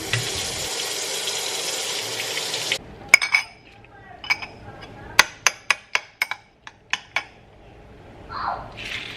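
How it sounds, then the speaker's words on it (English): A spoon clinks against a soft-boiled egg's shell as it scoops the egg out, a run of sharp, close taps and scrapes in quick succession after a brief burst of running water. "I'm spooning the egg out from the shell"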